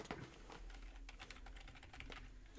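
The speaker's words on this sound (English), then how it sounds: "I'm having issues with this keyboard." Continuous clattering keystrokes on a computer keyboard that is giving trouble, heard close and alone, with steady dense clicks and no voices.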